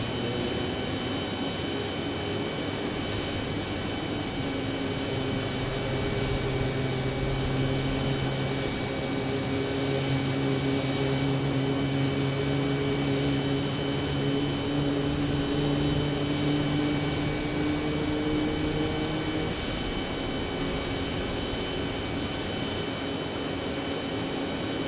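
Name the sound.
airplane departing from runway 26 at Phoenix Sky Harbor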